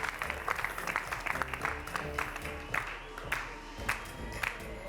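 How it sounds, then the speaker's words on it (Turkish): Studio audience on a Turkish morning television show claps steadily, a moderate, evenly spread round of applause with sharper individual claps standing out, no talking over it. "Suna Özdemir'in atölyesinde çalışanları alkışlıyorum buradan"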